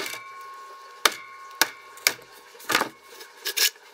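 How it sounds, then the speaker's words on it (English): A Phillips head screwdriver jabs into a workpiece to pop a small hole, giving about six sharp knocking impacts at uneven intervals, close up against a quiet background hum, with no talk. "I'm gonna take a screwdriver, just a Phillips head, screwdriver. Pop a little hole in it"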